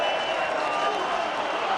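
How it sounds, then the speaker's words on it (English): A rugby league crowd at the 2000 World Cup match between the Maori and Samoa roars in reaction to a referee's penalty, a dense, steady wash of noise that holds loud for the short moment. "you could probably hear the crowd's reaction"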